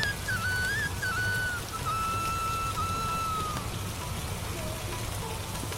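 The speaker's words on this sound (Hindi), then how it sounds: "बारिश अभी भी नहीं रुकी।" Steady rain pours throughout, a dense constant hiss, with a thin high whistling tone drifting over it for the first few seconds.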